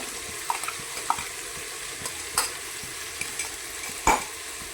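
Ground chilli paste sautéing in hot oil for a village-style mutton biryani, a constant crackling sizzle broken by several sharp spoon scrapes and taps against the pan, close and clear.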